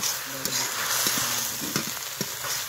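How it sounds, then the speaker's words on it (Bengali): Drumstick greens frying together with fried potato and scrambled egg in a pan, a dense close sizzle with a few spatula scrapes and taps, some faint tonal kitchen noise underneath. "এবার ভেজে রাখা আলু আর ডিম ঝুরি একসঙ্গে করে নিয়েছি, দিয়ে দেবো সজনে শাকে। সুন্দরভাবে এবার ভেজে নেব।"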